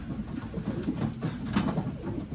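Racing pigeons at a one-loft race coo softly and repeatedly in low, rolling phrases, several birds close by with overlapping calls and occasional light flutters or clicks around them.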